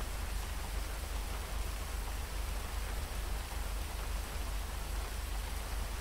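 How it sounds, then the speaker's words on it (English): Steady, even rain hiss in the GTA World video game, a dense, unbroken wash of noise with no distinct drops or other sounds. "And here comes the infamous GTA World rain"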